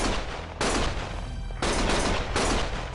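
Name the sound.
gunfire in the video game Lost Judgment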